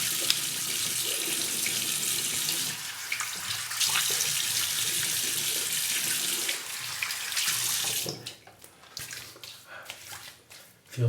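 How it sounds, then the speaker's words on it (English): Cold tap water runs steadily into a sink for a rinse after shaving, a loud, close hiss that breaks into splashes and dripping near the end as hands move through the stream. "Cold water rinse."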